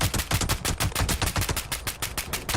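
Rapid bursts of gunfire from Fallout 76 hammer out in a dense automatic rattle, loud and close, with no voices over it.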